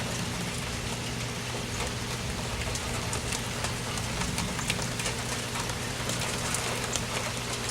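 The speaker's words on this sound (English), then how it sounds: "I like the rain." Steady rain falls outdoors near a backyard garden of chives and basil, a dense continuous patter with scattered sharper drops hitting surfaces, constant and fairly loud with no voices.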